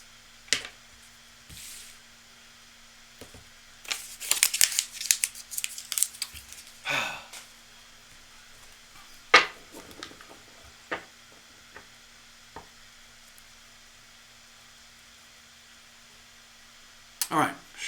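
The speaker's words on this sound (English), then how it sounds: "All right, cards are shuffled up." A deck of reading cards being shuffled, heard as scattered soft riffles, slaps and crinkly rustles in bursts over several seconds, close and fairly quiet with pauses between.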